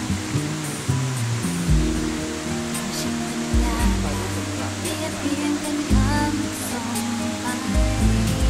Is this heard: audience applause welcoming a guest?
no